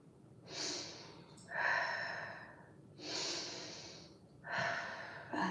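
Slow, deep breaths during a yoga session: four long, airy inhales and exhales, close and soft, alternating in a steady rhythm with no talking over them.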